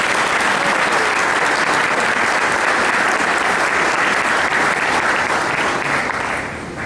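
A large crowd applauds steadily at a 100th birthday celebration, loud dense clapping filling the room and sustained throughout before tapering slightly at the end, with no voices over it.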